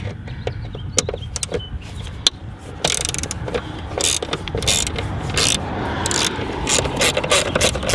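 Ratchet loosening bolts on BMW coil packs, with sharp metallic clicks and short bursts of ratcheting in uneven spurts, close and fairly loud against a low background rumble.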